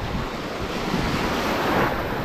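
Ocean surf on a rough Philippine shore, a steady broad wash of breaking waves mixed with wind buffeting the microphone, continuous and fairly loud with no voices.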